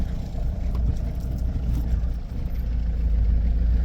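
A red car sits idling close by with a steady low engine rumble that holds unchanged throughout, with no talk over it.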